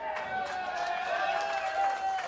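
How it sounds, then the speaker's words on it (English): A crowd at a live comedy tour show in Arizona applauds as a guest is called up. The dense, roaring wash of clapping and cheering is fairly loud and sustained, with a tonal musical layer running underneath. "Round of applause for Dread."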